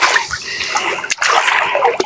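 Water splashes and sloshes in bursts as someone wades through a muddy fish pond, close and fairly loud.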